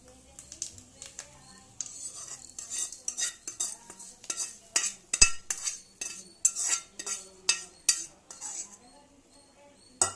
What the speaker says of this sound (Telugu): ఇప్పుడు ఈ పోపుని మనం చక్కగా ఈ రైస్లో కలుపుకుందాం